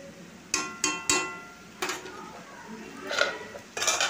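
A spoon scrapes and knocks against a cooking pot as cauliflower and potato are stirred, giving several sharp metallic clanks spaced irregularly, close and moderately loud.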